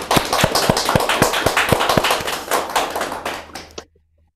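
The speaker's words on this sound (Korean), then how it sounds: "그리고 또 이렇게 지금 수료가 있기까지 우리와 함께 해주신 하나님께 영광의 박수 올려드립시다" A congregation at a church graduation worship service for a working people's Bible study group claps together in brisk, crisp applause, then fades out and stops abruptly near the end.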